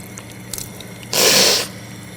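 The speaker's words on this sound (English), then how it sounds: "Then we should wash the nose 3 times." Water splashing as the nose is rinsed during wudu, a single half-second burst of close, wet rushing against a steady background hiss.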